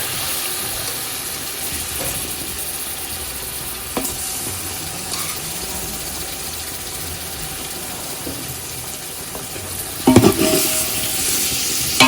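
Spiced chicken, about one and a half kilos, sizzles and is stirred in a masala in a home kitchen, with a steady crackle and scraping of a spoon in the pot, louder clatter near the end, and no talk.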